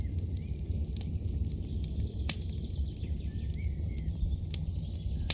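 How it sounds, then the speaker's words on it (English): A campfire burns outdoors in front of a tent, with a low, steady hiss and scattered sharp crackles and pops at irregular intervals, and no voices. "listening to the crackling fire"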